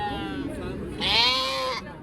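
At a sheep bazaar in Uzbekistan, a sheep gives a drawn-out, wavering bleat close by. It is followed by a louder, higher second bleat, with a crowd murmur from the livestock market behind it.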